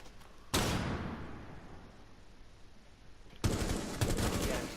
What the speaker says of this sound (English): let me just throw a flashbang in